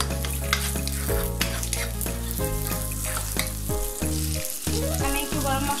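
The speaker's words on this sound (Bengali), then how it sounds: "চিংড়ি মাছ ভাজার তেলের মধ্যে আমি আরেক চামচ ঘি দিয়ে নিচ্ছি এবার এর মধ্যে আমি পেঁয়াজ কুচি দিয়ে দিচ্ছি" Chopped onion frying in ghee and oil left over from frying prawns, a steady sizzle running beneath loud tonal background music throughout.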